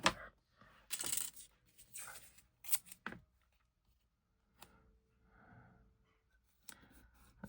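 Tape is handled up close in a quiet crafting setting: short crinkles, taps and peeling rustles come in irregular bursts, separated by near silence.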